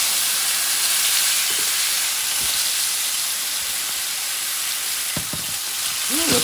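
Pork loin sizzles steadily on a cast iron griddle, a loud, continuous broadband hiss of frying fat with a few faint clicks and taps near the end, no voices.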